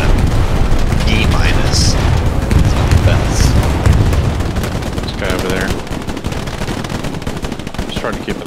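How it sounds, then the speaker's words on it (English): A bombing run in the Hell Let Loose war game pounds out booming explosions alongside rapid bursts of machine-gun fire, dense and loud throughout, with faint voices mixed in. "Bombing run coming in. Look at that bombing run."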